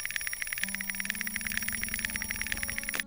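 A cartoon alarm clock rings in a rapid, bright metallic trill that repeats steadily for about three seconds, loud and close, then cuts off abruptly.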